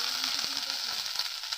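Ginger paste sizzles and fries in a pan while being stirred, a steady crackling hiss with soft scraping knocks from the spoon moving through it, close and fairly quiet.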